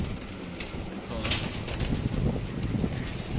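Pigeons coo and flutter on a rooftop as a handler removes them from a net, soft calls and wing rustles layered over a continuous noisy outdoor background at low level.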